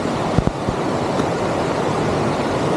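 River water rushes near the Lata Makau waterfall at Kuala Kubu Bharu, a loud, steady broadband roar with a few low thumps early on and no talking.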